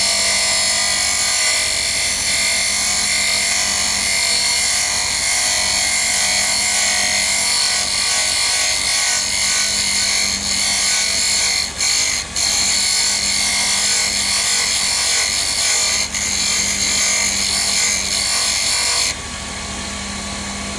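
A scraper shaping a wooden chess rook on a lathe, a loud continuous whirring drone of the spinning lathe layered with rough scraping hiss from the tool on the wood, steady throughout with a few brief catches.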